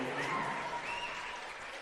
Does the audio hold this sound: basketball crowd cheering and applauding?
yes